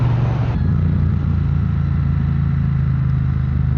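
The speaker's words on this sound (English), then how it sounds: "The sound has that soft rumble feeling, and that's a very calm rumble sound." A Triumph Modern Classics motorcycle engine gives a steady, soft, calm low rumble at close range, holding an even idle-like drone throughout with no speech.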